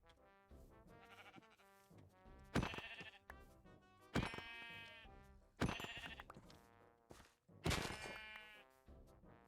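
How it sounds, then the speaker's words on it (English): Sheep in a Minecraft field bleat several times, a series of distinct, fairly loud bleats spaced a second or two apart, with no talking over them. "There we go, a field of sheep."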